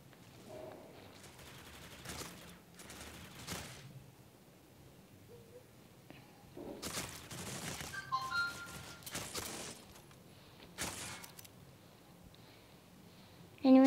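Gunfire in the mobile shooter Critical Ops on an easy practice match: scattered bursts of shots and clicks at moderate level, with short gaps and bits of game effects between them.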